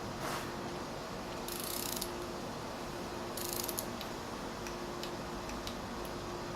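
Ratchet tightening 10 mm bolts on a Honda B18 oil pump, with two bursts of rapid clicking close by over a steady low hum, and no one talking.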